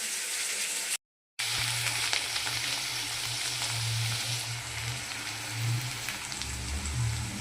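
Potatoes and chopped onions frying in a pan for a fish curry, a continuous loud, crackling sizzle close up, with a brief cut to silence near the start.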